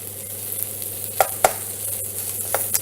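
Bacon and onion frying in a pan, a soft steady sizzle close by, broken by a few sharp clicks and scrapes as the food is stirred and moved around.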